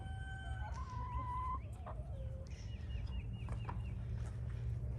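Ameraucana and Black Copper Marans chickens in breeding pens on a one-acre homestead, giving a series of clucks and rising calls over a low, constant background hum.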